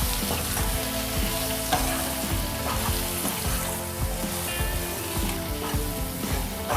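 Quail curry with spice powder being mixed and cooked in a pan, a dense continuous sizzle with repeated rhythmic scraping and stirring strokes, close and fairly loud, no one speaking.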